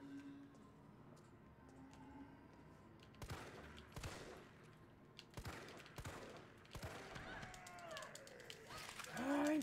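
Gunfire in the video game Resident Evil 3 Remake, several sharp separate shots arriving in irregular bursts over quiet ambient game sound, with a rising rumble near the end.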